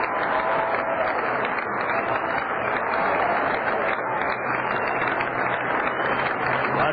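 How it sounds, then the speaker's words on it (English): Baseball fans at a Cedar Rapids Kernels minor league game applaud pitcher Rafael Rodriguez as he leaves the mound, a steady, dense wash of clapping and crowd noise heard through a muffled, narrow broadcast feed. "We'll let you hear the hand the Colonel fans will give 20-year-old Rafael Rodriguez"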